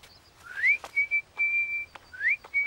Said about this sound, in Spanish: ¿Por qué silbas?